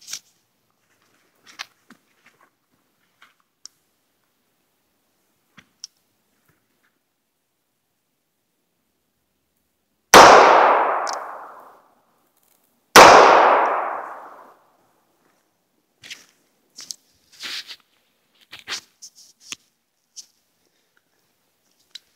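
Two loud, sharp gunshots from a Cobra .38 Special derringer ring out about three seconds apart, each with a decaying blast tail. Faint clicks and handling noises come before and after.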